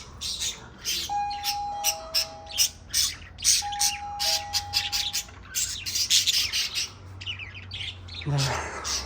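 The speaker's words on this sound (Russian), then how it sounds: "С попугайчиками." Small parakeets squawk and chirp in a grain and feed store, a busy run of sharp, bright calls and squeaks with a few thin whistles, close and fairly loud against low room noise.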